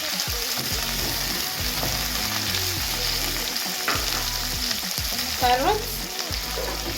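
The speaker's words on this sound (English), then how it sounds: "after your onions are browned, as you can see, you can add in peppers." Onions and peppers sizzle steadily in a hot pan while a utensil stirs and scrapes through them in repeated strokes, close and fairly loud, with no talking.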